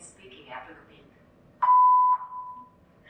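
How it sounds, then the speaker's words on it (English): A single steady electronic beep marks the start of a TOEFL speaking response, a clear sustained tone lasting about half a second followed by a fainter echo, after a brief stretch of quiet speech. "Please begin speaking after the beep."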